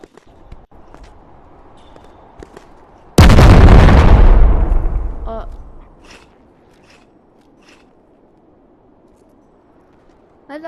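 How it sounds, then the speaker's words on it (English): RPG explosion in the video game Animal Company, a sudden loud, close boom that rumbles and fades over about two seconds, with quiet game noise and faint clicks before and after. "What blew up?"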